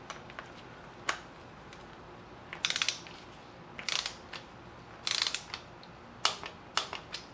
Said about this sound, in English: we're going to tighten it using our torque wrench to 10 Newton meters